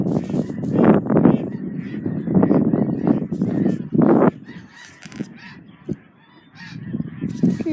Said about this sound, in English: Watch this. Geese are gonna go over me.